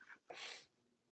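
A single quick sneeze, a short intake of breath and then a sharp burst that trails off, fairly faint, heard in a quiet room with no talk.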